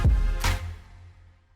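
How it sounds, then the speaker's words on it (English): A music track ends on two low, punchy hits followed by a smooth reverb tail that decays gradually like a concert hall, fading to near silence within a second and a half. "So we get that much more natural fall off there with the reverb."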